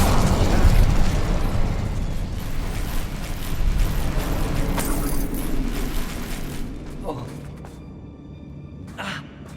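The Incendio fire spell erupts in Hogwarts Legacy, a loud crackling, roaring burst with mechanical creaks that gradually dies away, followed by a couple of faint later pops.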